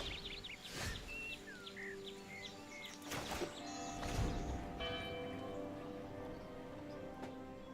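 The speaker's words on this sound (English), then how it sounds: "Yo, who rang the bell?" A chiming bell rings out a few times in the Magic the Gathering Arena video game, fairly soft, alongside light game effects and faint twittering tones, with no talk over it.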